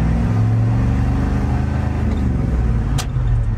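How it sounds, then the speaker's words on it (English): A 1990 Ford F Super Duty truck with a ZF5 manual gearbox and a suspect clutch, its engine droning loud and steady as it upshifts into second, with a brief sharp grinding spike near the end. "let's see if I really give the clutch a lot, if it'll still grind into second upshifting"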